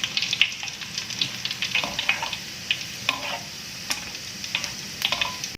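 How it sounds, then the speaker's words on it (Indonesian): Garlic frying in hot oil, a steady sizzle with crackling pops and spatters scattered throughout, close up, no voices. "bawang putih, cipratan minyak tuh"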